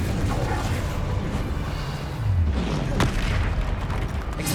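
Incendio fire spell cast in the Hogwarts Legacy video game, a rushing burst of flame with booming impacts and a sharp crack near the end, loud and close amid combat noise.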